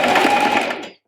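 A home sewing machine runs a short reverse backstitch to lock the start of a seam on a shirred-back jumpsuit, its steady close whir holding for about a second before cutting off.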